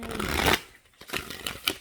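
An oracle card deck being shuffled up close: a brief riffling burst, a pause, then a few lighter taps and flicks.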